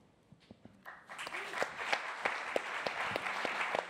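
Audience at a science and exploration festival panel claps in applause, building quickly to a sustained, dense round of clapping with some sharper individual claps standing out, moderately close.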